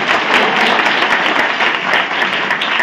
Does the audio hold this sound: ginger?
no